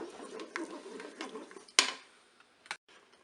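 A spoon stirs a thick chocolate spread mixture in a Cookeo pot, giving soft scraping and light tapping, then a sharp clack against the pot and one more faint knock before near silence.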